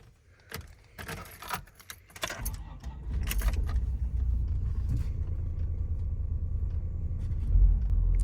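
Keys jangle and rattle for a few seconds, then a van engine cranks in winter cold and settles into a steady, rough low rumble that runs to the end.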